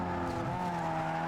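A Need for Speed Underground 2 race car engine drones steadily and loudly, revving up with a faint tire-squeal edge, continuous throughout the short moment.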